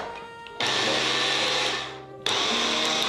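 A blender grinds cashews into a finer powder, a loud steady whir that runs in two bursts with a brief dip between them, no voices over it.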